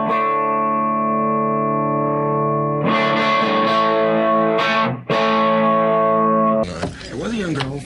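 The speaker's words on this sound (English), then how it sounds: "We got a champ hooked up to a 215 cab." Electric guitar played through a Fender Champ amp into a 2x15 speaker cabinet, ringing out a loud distorted sustained chord, then several hard-picked chord changes with a brighter, more chaotic final strum; no voices.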